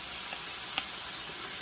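Leeks cooking in a pan, a steady soft sizzle and hiss with a faint tap near the middle, quiet and continuous.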